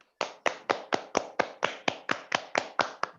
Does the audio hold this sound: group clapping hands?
yes